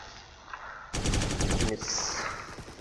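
Burst of rapid automatic gunfire in a shooting video game, a loud rattling volley lasting under a second after a quiet lead-in, followed by softer game ambience.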